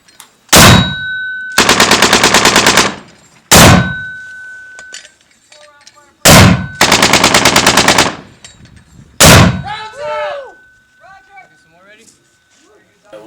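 Heavy field guns firing during a live-fire combat exercise: several deep, booming blasts, each followed by rapid rattling bursts, with ringing echoes and metallic clanks between the shots.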